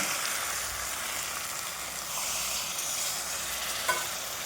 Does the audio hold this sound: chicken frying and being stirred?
yes